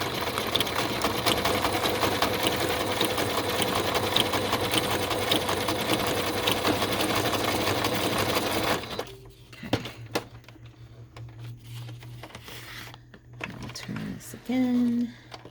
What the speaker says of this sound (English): So I was going to sew on the edge as well,